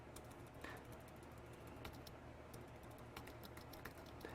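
Computer keyboard keys being typed quickly in an irregular patter of soft clicks while entering a router command, close and quiet with no talking.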